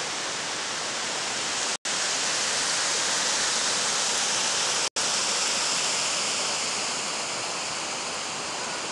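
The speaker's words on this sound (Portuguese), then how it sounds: "que é a segunda cachoeira. É isso. Lindo. Lá no fundo do Lago de Furnas." Waterfall tumbling into Lake Furnas, a steady, loud broadband rush of falling water that fills the whole stretch, unbroken apart from two brief cuts.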